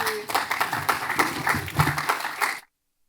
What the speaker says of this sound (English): Big applause to you, the last ones who have managed to stay.